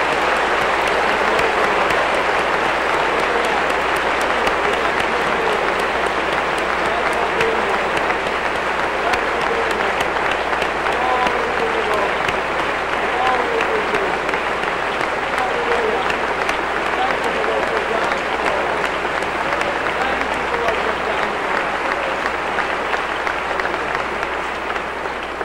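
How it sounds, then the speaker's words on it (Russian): A large audience at a Christian preaching meeting in Poland claps steadily and densely for the whole stretch, a sustained wash of applause without pause. "we ought to give Jesus a big clap"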